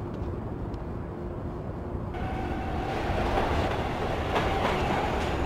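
A boxcar rolling in The Warriors video game makes a continuous rumbling rail clatter with faint clickety-clack and a rise in intensity partway through. It plays alone, without talk.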